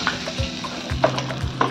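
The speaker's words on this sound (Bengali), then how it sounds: "মাছগুলোকে লাল লাল করে এবার ভেজে নিলাম।" Fish pieces frying in hot oil, a near sizzle broken by a few low spoon or pan knocks over less than two seconds, with no voices.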